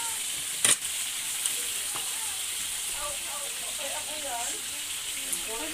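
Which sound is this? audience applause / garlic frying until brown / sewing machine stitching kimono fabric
garlic frying until brown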